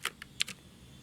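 Keystrokes on a computer keyboard while entering an item into a to-do list app: four quick, crisp taps in an irregular rhythm, close and fairly quiet, followed by a faint room hush.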